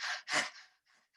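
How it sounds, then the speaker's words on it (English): A person doing a breathing exercise pants like a dog, mouth open and tongue out, with two strong breathy gasps followed by fainter, softer breaths trailing off. "That's it, like the dog breath."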